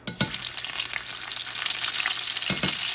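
Curry paste hits very hot oil in a pan for a quick chicken curry, bursting into a loud, dense sizzle that holds steady with a few stirring knocks, close up and with no voices.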